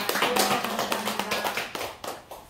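A church congregation claps together during a Korean worship service, a dense run of sharp, overlapping hand claps that rises and falls in short bursts with no voices over it.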